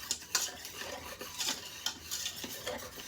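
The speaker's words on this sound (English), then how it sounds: "Give it a quick whisk" Sugar, Hershey Special Dark cocoa powder and a pinch of salt are whisked in a pot for homemade hot chocolate. Quick, rhythmic scraping strokes come close and fairly quiet, with no voices.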